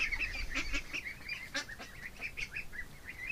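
Ducks in a barn give a rapid run of honking, quacking calls, several birds overlapping at close range in a small enclosed space.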